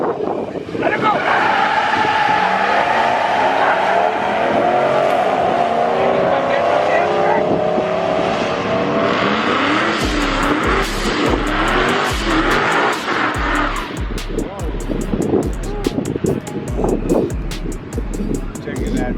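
A Ram pickup truck launches hard down a drag strip, its engine roaring loud and close with a rising, sustained run, then continuing with rapid rhythmic pulses and wind buffeting; a voice speaks over it.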